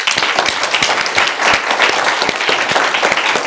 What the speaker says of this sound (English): join us in a round of applause for each of the regional teams